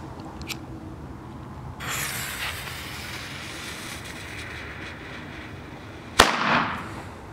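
A sharp, loud bang of a firework exploding inside a cake bursts suddenly near the end, followed by a brief crackling tail, after several seconds of low background noise and a faint hiss.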